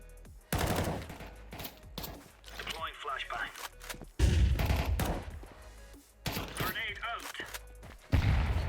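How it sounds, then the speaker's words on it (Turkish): Bursts of gunfire from a first-person shooter video game, loud rapid shots in clusters separated by quieter gaps, mixed with footsteps and player chatter over voice chat. "Skopa açıp mermi attım"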